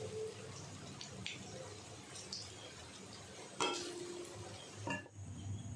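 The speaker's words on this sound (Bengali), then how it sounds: "এবার ফুলুরি আকারে বানিয়ে নেব। সুন্দর ভাজা হচ্ছে।" Jackfruit and flattened rice fritters frying in hot oil, a faint steady sizzle under occasional clinks of a utensil against the pan, with a couple of sharper scrapes near the end.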